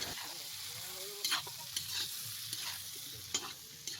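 Marinated meat frying in a wok at an outdoor New Year's Eve picnic, a steady close sizzle with occasional louder spatters and scraping stirs, no talking.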